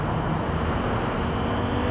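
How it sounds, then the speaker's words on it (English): Steady broadband city traffic rumble in Cyberpunk 2077, a continuous wash of road and engine noise at even loudness with no distinct events standing out. "And there is a lot of traffic now."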